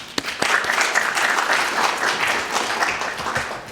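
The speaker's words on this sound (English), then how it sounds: "Let's welcome him with a round of applause." An audience at a panel talk on free banking breaks into steady, dense applause that holds for several seconds, heard from within the room.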